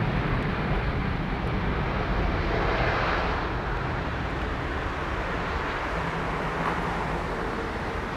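An airliner landing at London Heathrow roars steadily with its cold-stream thrust reversers deployed, a broad, loud, continuous rumble that holds for several seconds and then slowly eases, heard from a distance with no talk.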